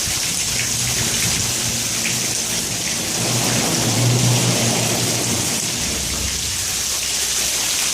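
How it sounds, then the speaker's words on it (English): A thunderstorm in a downtown area, heard from shelter under a bridge, brings steady heavy rain with a deep rumble of thunder swelling near the middle before fading. "Here comes the thunder."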